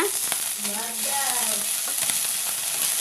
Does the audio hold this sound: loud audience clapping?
no